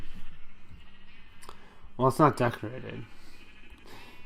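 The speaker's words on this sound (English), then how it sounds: "This is sheep farm." Sheep bleat on a sheep farm in modded Minecraft, a short burst of several harmonic bleats at moderate loudness, with a person talking over and around them.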